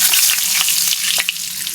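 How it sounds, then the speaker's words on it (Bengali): Dried red chillies fry in oil, giving a loud, steady hiss and sizzle up close with sharp little pops and crackles throughout. "শুকনো মরিচ ভাজবেন।"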